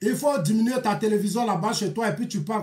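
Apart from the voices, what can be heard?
No everyday noises stand out.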